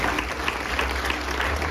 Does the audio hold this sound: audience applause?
yes